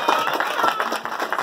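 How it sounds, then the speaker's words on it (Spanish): A clown show audience claps for a guest named Ismael, a quick, steady patter of many hands in a room, with talk mixed in. "fuerte los aplausos para Ismael"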